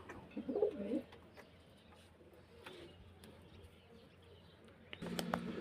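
Soft pigeon coos come in a short burst near the start, then again at the end, over a quiet background with faint rustling.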